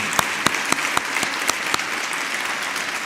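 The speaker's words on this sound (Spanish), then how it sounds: "¿Qué le parece si damos un aplauso?" A church congregation applauds to welcome visitors, a group clapping with a few sharp, regularly spaced louder claps standing out over steady softer clapping.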